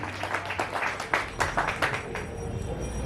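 Audience at a theatre festival applauding a stage play, a dense wash of clapping with some sharper individual claps, moderately loud and fading slightly toward the end.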